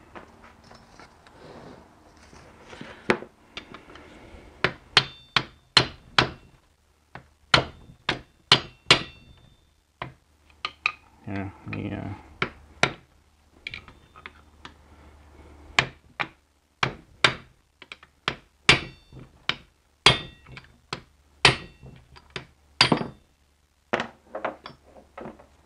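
Hammer blows tapping a bent dust shield straight on a BMW E46 differential, sharp metallic knocks in irregular bursts and clusters, close and fairly loud against a quiet background.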